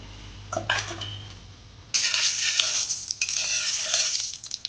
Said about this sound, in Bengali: তো এবার এগুলোকে আমি মিশিয়ে নেব তেলের মধ্যে।